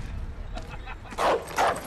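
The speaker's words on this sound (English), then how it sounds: "Stupid ass dog." A dog in the Modern Warfare video game gives two short, loud yelping barks near the end, after a stretch of quieter game background noise.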